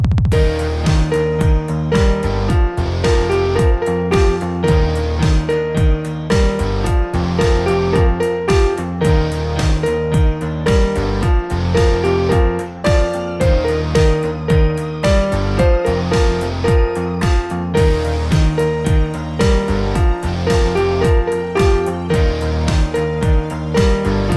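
Piano plays the chorus of a pop song, a steady rhythmic pulse of full chords under a bright melody, loud and continuous with no voices.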